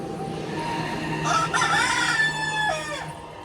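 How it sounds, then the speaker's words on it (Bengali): A rooster crows in a long drawn-out call at moderate distance, rising and falling over a steady background hum at a village home where chickens are kept. "এখানে মুরগি আছে, মুরগি ডাকছে"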